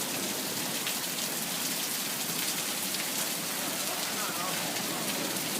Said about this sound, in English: Oh no, it's still hailing.